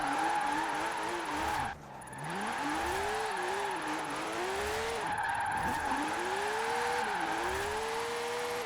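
A car engine in Forza Horizon 4 revs high and whiny past 9,500 rpm while drifting, its pitch repeatedly climbing and dropping with gear shifts and throttle changes, mixed with faint tire squeal.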